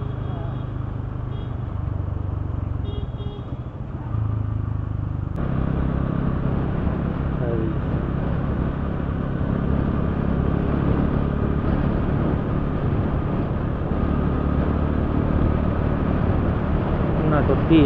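A car driving home along a clear, smooth road from Eco Park, a steady close engine and road rumble that rises slightly after a few seconds, with people talking over it.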